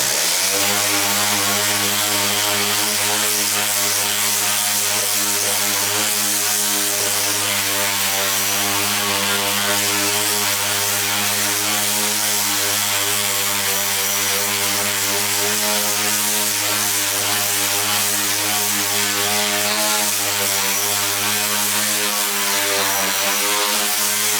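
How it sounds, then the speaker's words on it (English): Steady, loud, continuous whir of an orbital sander working a cedar guitar body patched with super glue and machining dust filler, a droning hum with rich harmonics running unbroken throughout, close up and alone. "So I'll just hit that with the orbital also."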